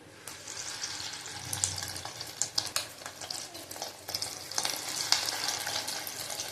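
Fish roe batter being spooned into hot oil, giving a continuous crackling sizzle with scattered scrapes and splashy bursts throughout.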